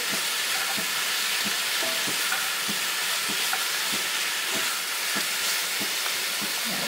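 Kebab meat frying in a pan, a steady close hiss of sizzling fat with soft regular knocks as it is stirred, heard alone throughout.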